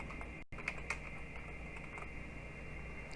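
Keystrokes on a computer keyboard, with a few soft, sparse clicks that come faint and close against a quiet room hum.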